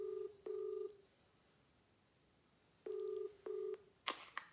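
Telephone keypad dialing tones, three steady beeps in quick succession early on, then a pause, then two more beeps, followed by a short burst of higher clicking tones, clear and alone over a faint hiss.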